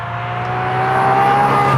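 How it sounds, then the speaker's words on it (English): An Aston Martin Valkyrie engine drones steadily from outside on a race track, its tone rising slightly as it builds, loud and continuous with no voices. "From the outside, this car sounds, well, it's just sexy, isn't it?"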